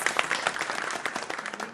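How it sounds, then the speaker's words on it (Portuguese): An audience at a podcast recording applauds a guest, psychologist Janaína, with a dense, steady spread of hand claps that carries through the whole moment at a fairly even, moderate level. "E palmas pra Janaína."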